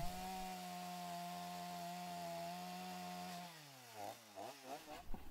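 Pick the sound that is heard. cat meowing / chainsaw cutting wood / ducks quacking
chainsaw cutting wood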